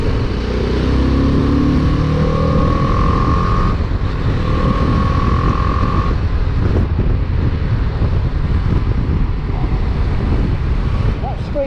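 A BMW G310GS motorcycle engine revs while riding, a steady drone rising in pitch across the first few seconds, heavily masked by constant wind buffeting on the microphone throughout.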